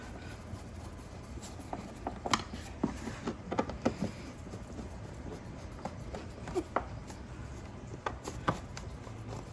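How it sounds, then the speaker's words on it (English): Tightening T20 Torx screws on the air filter box of a 2011 Volvo XC70 3.2L, heard as quiet irregular clicks and scraping ratchet ticks from a hand tool, close by with no talk. "tightening those T20 screws"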